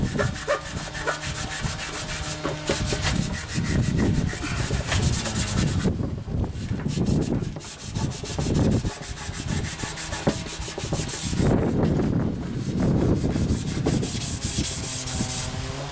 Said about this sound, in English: I'm getting all the hard to reach bits with some coarse Scotch-Brite